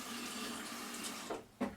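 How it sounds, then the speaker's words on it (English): Water is poured into the water container of a Delonghi Dinamica coffee machine, a soft steady trickle that swells into a louder splash near the end. "Just put some water into the water container."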